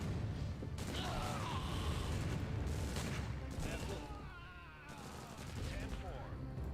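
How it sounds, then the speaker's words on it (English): Enemy artillery firing in the real-time strategy game Empire Earth, a continuous barrage of booming shots and crashing impacts with metallic battle clatter, loud and steady throughout, with someone talking over it. "oh, look, there's the enemy artillery that messed us up last time."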